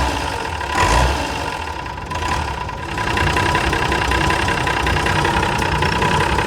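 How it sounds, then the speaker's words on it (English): A Mercedes Unimog 416 diesel engine running at a rolling idle, a loud, close rumble with a steady hum whose speed rises and dips unevenly, heard on its own without talk. "Bit of a rolling idle this time."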